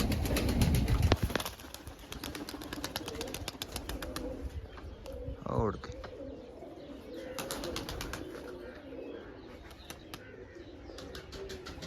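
Pigeons coo softly in a loft, with a burst of wing flapping, bird calls and handling noises close by.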